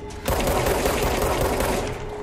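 Rapid, continuous burst of gunfire from the video game Control, loud and dense, firing nonstop for about two seconds after a brief quiet start.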